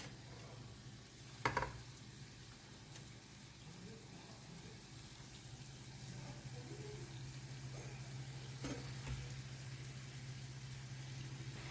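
Pomfret fish frying in masala in a pan, giving a steady low sizzle throughout with a couple of brief louder clatters near the start and later.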